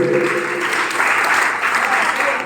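Audience applause fills a student felicitation ceremony at a coaching centre, a dense, steady wash of many hands clapping at close range for a couple of seconds without a break.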